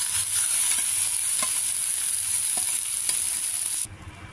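Cooked dal is tipped into a pan of frying tender tamarind leaves and stirred, a steady close sizzle with occasional spoon scrapes against the pan, cutting off abruptly near the end.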